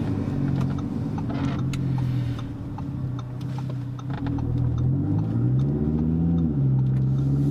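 Audi RS3 saloon tuned to 670 hp with a five-cylinder engine, heard from inside as a steady loud drone that swells and climbs in pitch while accelerating, with a few faint ticks over the top.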